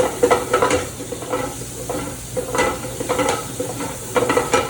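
Garlic sizzles in a hot pan alongside scallops, stirred in repeated scraping strokes over a steady close frying hiss, with no voices.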